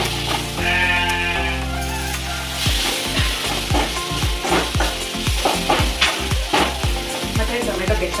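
Gobi manchurian fries in a pan as sauce is poured in, giving a steady sizzle followed by a series of rhythmic scraping and stirring strokes near at hand.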